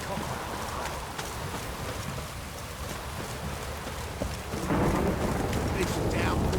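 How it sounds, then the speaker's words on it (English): Steady downpour fills a rainy scene in The Witcher 3 game, with low rumbling thunder underneath and a heavier surge of rain and rumble near the end; faint voices murmur beneath the storm. "This downpour's a bastard"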